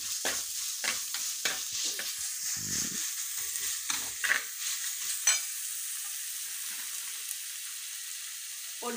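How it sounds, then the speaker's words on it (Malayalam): Sliced onion with a pinch of salt is sautéed in a pan, a soft sizzle punctuated by repeated scraping stirs of a spoon, close and fairly quiet with no talk. "സബോള, ഇതിൻ്റെ രണ്ട് തരി ഉപ്പ് ഇട്ട് നമുക്ക് നന്നായി വഴറ്റിയെടുക്കാം"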